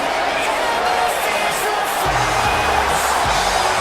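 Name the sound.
arena crowd cheering in wrestling video game WWE 2K19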